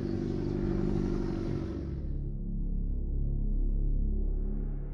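A powerful motorcycle built for a high-speed wheelie record attempt, its engine droning loudly and steadily with a deep low rumble as it passes nearby, with no talking.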